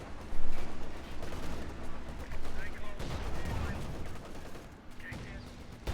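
MG34 machine gun fire in a Company of Heroes 2 match, with dense overlapping bursts of battlefield gunfire mixed among other weapons, steady and loud throughout, under a voice talking.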